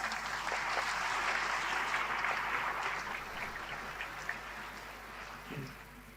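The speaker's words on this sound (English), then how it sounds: "please recognize them and give them another round of applause" Audience applause in a hall at a ministerial conference, a full round of many hands clapping at moderate distance, steady at first and then gradually thinning out.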